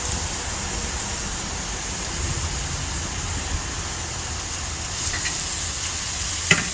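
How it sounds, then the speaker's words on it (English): Steaks sear on a hot camp griddle, giving a steady close hiss and crackle with no break, a faint engine-like rumble underneath and one sharp clink near the end. "You want that sear on those steaks, guys."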